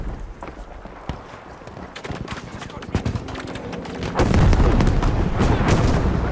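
Gunfire in the online shooter Battlefield V, with scattered distant shots that build into dense, loud bursts near the end and voices talking under the noise.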